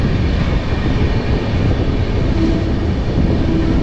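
The Deccan Queen Express runs between Pune and Mumbai with a loud, steady rolling rumble and broad hiss of wheels and carriages that continues without a break and without talk.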